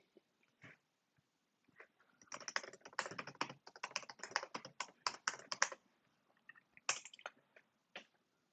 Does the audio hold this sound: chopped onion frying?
no